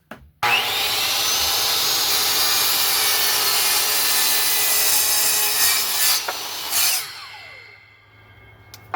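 Maple boards cut to length with a power saw: a loud, continuous whining cut runs steadily for about six seconds, then spins down and fades to quiet, with no talking.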